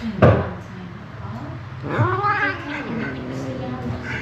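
An angry female cat, furious and rolling about, spits and growls at close range, letting out harsh hisses and drawn-out caterwauling yowls.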